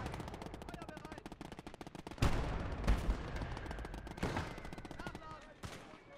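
Machine gun fire in Call to Arms Gates of Hell on the Eastern Front, rapid continuous bursts rattling with heavier booming shots mixed in, at moderate level beneath a voice talking.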